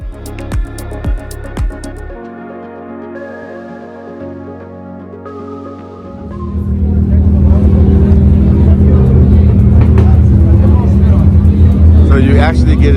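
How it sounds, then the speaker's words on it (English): Cars circling a race track at a South African track day, heard as a loud steady engine roar and passing traffic that rises after about six seconds, preceded by quieter mechanical hum and a few knocks. "There's gonna be cars on the track."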